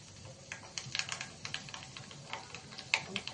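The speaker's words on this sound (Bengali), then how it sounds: "আমার তেলটা গরম হয়ে গেছে, আমি শুকনো লঙ্কা আর সর্ষেটা দিয়ে দিচ্ছি এর মধ্যে।" Mustard seeds and dried red chillies splutter in hot white oil for a Kerala moru curry, with quiet, irregular rapid pops and crackles scattered throughout.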